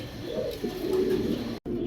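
A female pigeon, among pigeons kept for sale, gives a soft, low coo that rises and falls over about a second, close by, with a brief dropout near the end and no talking.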